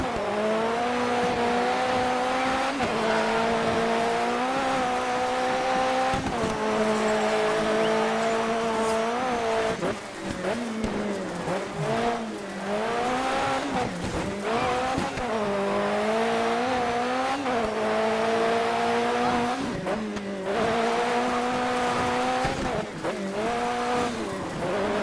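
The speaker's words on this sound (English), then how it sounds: "Oh, that tire squeal." A rally car in Dirt 3 howls through its gears, engine note rising and falling while tires squeal repeatedly through slides and corners, loud and continuous with brief dips as it shifts.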